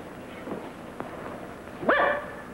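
A single sharp dog bark rings out near the end, fairly close, following a few faint thumps in a quiet room.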